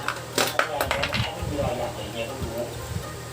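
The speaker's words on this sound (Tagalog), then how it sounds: "Unahin natin yung 20 na coin." Coins drop into the slot of a piso wifi vending machine with a cluster of quick metallic clinks near the start, then fainter rattles over a steady electrical hum.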